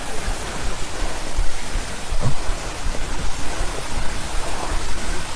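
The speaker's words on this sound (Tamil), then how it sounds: "இந்த அருவி சத்தம் தாங்க கீழே வரைக்கும் கேட்குது." A waterfall roars as a continuous, loud, broadband rush of falling water, close by and steady throughout, with no voices.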